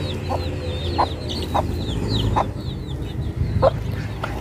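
Chickens cluck repeatedly close by, short throaty calls at irregular intervals over a background of higher chirping from chicks or birds, no speech.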